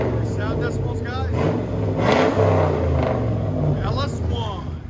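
A 1998 Pontiac Firebird with a 5.7L LS1 V8 and dual straight-pipe exhaust revs loudly up close, its deep rumble rising and falling through several throttle blips, with people talking over it.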